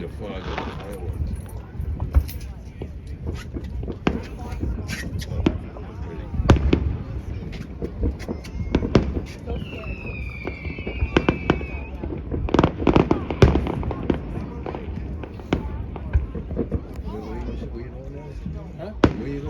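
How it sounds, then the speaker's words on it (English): Fireworks exploding over a marina: a steady run of sharp cracks and booms at varying distances, some loud and near, with people talking throughout and a faint whistle partway through. "See the fog of the fireworks."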